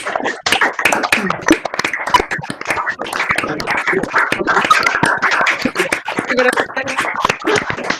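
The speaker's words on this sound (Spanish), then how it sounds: "te despedimos con un aplauso" Small group clapping to send off a guest at the close of a university masterclass on sports psychology, with scattered, uneven claps and taps under people talking over one another.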